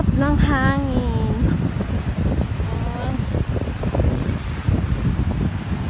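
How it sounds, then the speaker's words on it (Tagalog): Strong seaside wind roars steadily across the microphone by the shore, with a voice speaking briefly near the start and middle. "Ang lakas ng hangin"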